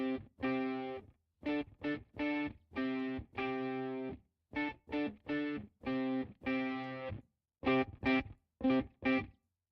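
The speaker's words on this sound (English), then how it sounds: "Couldn't I just like drop a distortion here?" A harmonically rich synth melody in short, chopped notes with a gritty distortion effect, played alone in a rhythmic pattern of bursts and gaps while a music track is being produced.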